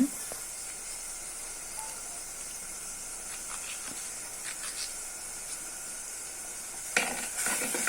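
Onions and green chillies for a Telugu-style silver fish curry fry in a pan with a steady, soft sizzling hiss, a few faint stirring clicks, and a brief louder scrape near the end.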